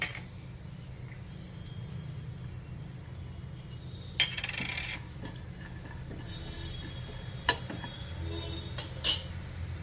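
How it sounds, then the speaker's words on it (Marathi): Fennel seeds dropped into cumin seeds in a dry pan over low heat, roasting for homemade sambar masala: a few light clinks and brief rattling patters over a steady low hum. "जिऱ्यामध्येच मी बडीशोप घालणार आहे"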